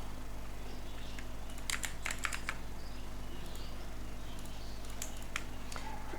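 Computer keyboard keys are pressed in a short cluster of quick clicks near the middle, then a few scattered taps, close and fairly quiet over a steady electrical hum, during Ctrl+A shortcut work in an illustration program.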